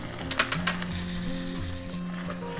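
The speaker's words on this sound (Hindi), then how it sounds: "मैं साथ साथ चमचा हिला रही हूँ ताकि ये वॉल्स के साथ ये लगने ना पाए और ये जले ना" A spoon stirs bottle gourd halwa in a pan, scraping with a few sharp clicks near the start, then a steady, soft simmering sizzle with a low hum underneath.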